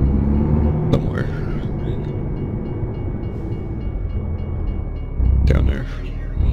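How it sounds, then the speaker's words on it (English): A low, continuous train rumble from a distant train in American Truck Simulator rolls on in the background while a person talks over it, with a couple of sharp clanks. "I hear a train"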